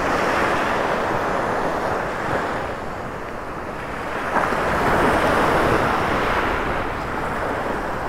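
Waves and wind on a morning beach in North Naples, Florida: steady surf wash and gusty wind rumble buffet the microphone continuously and loudly, with no voices.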